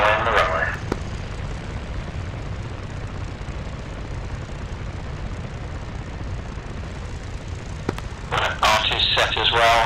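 A P-51D propeller fighter in a flight sim drones steadily as it rolls along the runway, a constant low engine rumble throughout with brief voices cutting in near the start and end.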